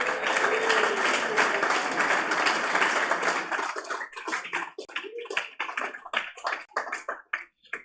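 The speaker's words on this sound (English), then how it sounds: "round of applause for Frollo, please" Audience applause at a fintech awards ceremony: a dense, loud wave of clapping that thins after a few seconds into scattered individual claps before fading.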